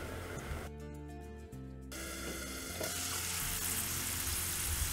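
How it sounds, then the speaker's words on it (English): Steady crackling sizzle of corn frying in hot oil in a lidded pan, close up, with a low hum early on and the sizzling swelling louder toward the end. "Now I am adding the second batch for frying right now"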